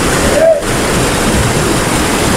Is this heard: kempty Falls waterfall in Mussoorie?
yes